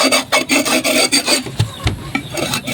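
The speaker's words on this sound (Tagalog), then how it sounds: "Kaya kinukuskus natin yan." Chicken droppings are scraped off worn, damaged farm flooring with close, rhythmic rasping strokes: a steady run of repeated scrubs, then a few heavier, irregular scrapes. No voices.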